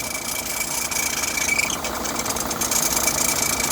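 A running car engine hums steadily while its failing AC compressor locks up, giving a continuous whining, vibrating drone with a thin high tone over a dull mechanical rumble.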